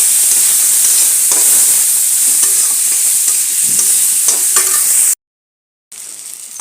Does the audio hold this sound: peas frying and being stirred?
yes